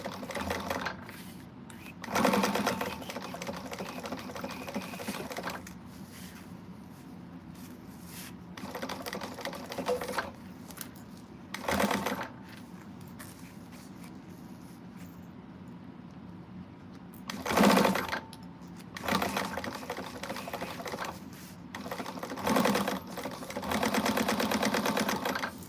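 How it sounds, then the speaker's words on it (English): Sewing machine top stitching around a Siah Sidekick, bursts of rapid mechanical needle chatter starting and stopping repeatedly, with quiet pauses between runs and some longer stitching spells toward the end. "So I'm just going to top stitch it on all the way around."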